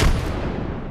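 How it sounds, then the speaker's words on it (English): A single loud gunshot in Apex Legends, a close sharp blast that decays quickly within about a second, with no voice over it. "Shot fired."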